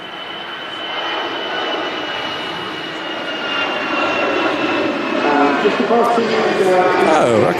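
An EasyJet airliner at Manchester Airport roars with a rising jet engine whine and rumble that grows louder over several seconds, while people talk over the noise.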